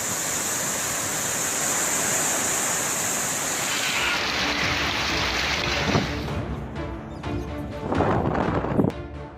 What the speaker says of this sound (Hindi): आंध्र प्रदेश, ओडिशा और पश्चिम बंगाल में कई जगह भारी बारिश शुरू हो गई है।